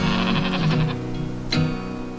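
Dall sheep bleating in wild mountain country, with a loud, close, wavering bleat followed by a shorter second call, heard alone without any talking.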